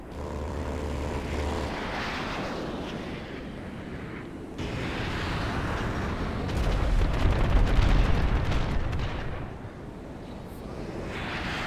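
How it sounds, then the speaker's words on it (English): A propeller airplane flying in the GTA video game gives a steady, loud engine drone that swells and dips over about twelve seconds, with no talking. "This is a fun plane."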